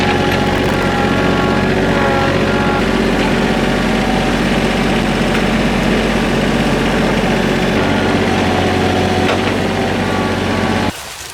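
A tractor engine running while mulch is fetched for a garden, a loud, steady low rumble with a droning hum that shifts slightly in pitch midway, continuing almost unbroken until cutting off abruptly at the end.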